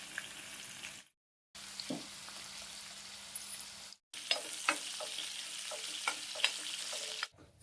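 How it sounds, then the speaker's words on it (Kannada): Chopped green chillies and onions fry in a pan for girmit, a North Karnataka snack, giving a steady close sizzle broken by short pauses, with repeated sharp scraping stirs later on. "ಮೆಣಸಿಕಾಯಿ ಮತ್ತು ಉಳ್ಳಾಗಡ್ಡಿ ಹಾಕಿದೇವ್ರೆ ಅವು ಚಂದಂಗೆ ಫ್ರೈ ಆಗತ್ತಾವ"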